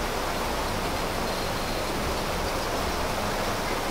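Water flowing along a forest stream, a steady broadband rush that holds evenly throughout, moderately quiet with no voices over it.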